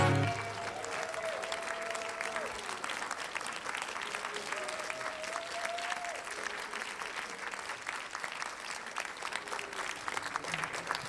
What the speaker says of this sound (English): let's give him one more round of applause there